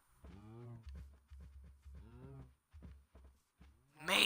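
Cows in a Minecraft-style survival island game moo in a run of low, drawn-out calls, close and clear, with a brief noisy burst at the end.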